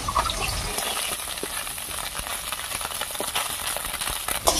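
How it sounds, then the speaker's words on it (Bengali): Continuous close sizzle of small boreli fish frying in oil, with scattered crackles and spits throughout. "মাছগুলো আজকে একটু ভালো করে ভাজবো।"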